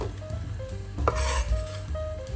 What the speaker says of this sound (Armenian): ընդամենը փափկեցնում ենք, կրկնում եմ, 4-5 րոպե առավելագույնս այսպես տապակել